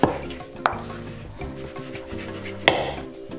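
Raw beef being mixed by hand with four tablespoons of cornstarch, giving soft close squelching and rubbing with a few sharp knocks against the bowl, no voices.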